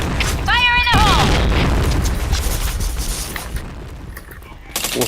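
Grenade blasts in a video game shooter: a heavy boom and crackling bursts open the clip and decay into a rumbling tail, with a brief shouted voice near the start and a fresh burst at the end.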